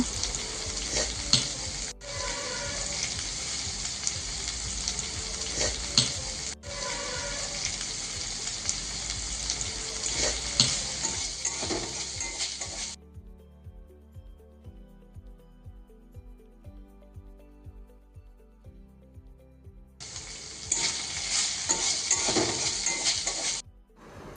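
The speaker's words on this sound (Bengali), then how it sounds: "মাংসটাকে এবার ভালো করে কষে নেব" Chicken pieces fry in a pan and are stirred well for chicken chow mein. A loud, close sizzle comes with scraping stirs, drops to a quieter stretch in the middle, then returns strongly near the end.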